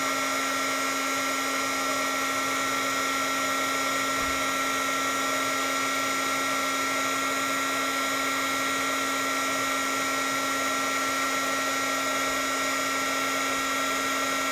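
Heat embossing tool blowing hot air over a napkin card with glitter and glaze, a steady loud whirring hum with a fixed motor whine, unbroken for the whole stretch, no voices.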